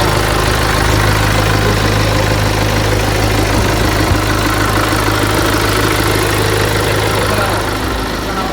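A Mini Cooper D diesel engine idles steadily up close, a continuous low rumble with a faint knocking texture and no voices.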